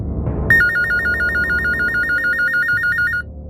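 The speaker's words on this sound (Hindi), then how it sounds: "हमें फिर एक फोन कॉल आया" A telephone ringing with an electronic warbling trill, loud and close, repeating steadily for about three seconds over a low background hum before it stops.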